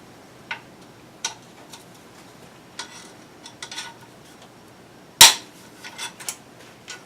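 Bolts being broken free on a 2.0L MKIV Volkswagen Jetta engine during head replacement work: a few light scattered clicks and taps, then one loud, sharp crack as a bolt lets go, followed by softer knocks, close up with no talking.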